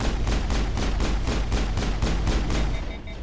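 Rapid automatic gunfire from a Mass Effect video game firefight, a steady burst of about a dozen evenly spaced loud shots over three seconds, dense and continuous with no talk.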